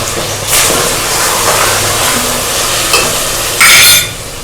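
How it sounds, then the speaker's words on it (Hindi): Chicken keema and potatoes stir-fried with spices over medium heat, a loud, steady sizzle with bursts of stirring and scraping, close up and free of talk. "और इसकी दरमियानी आंच पे भुनाई करेंगे।"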